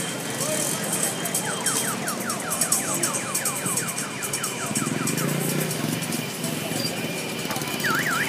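Motorcycles roll past in a convoy with rumbling engines and warbling, rising-and-falling horn or siren tones, while people talk loudly nearby.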